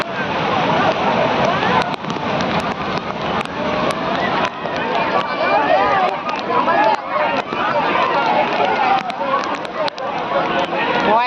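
Rough sea waves churn on a beach shore as heavy rain moves in. The roar is loud, continuous and surging, and a voice can be heard over it.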